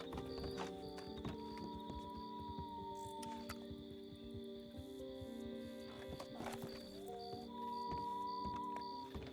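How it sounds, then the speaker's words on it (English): Horses in the RedM Red Dead roleplay game approach with clip-clopping hooves, snorts and whinnies amid a busy layered game soundscape of tones and ambience, fairly steady and moderately loud. "I hear horses"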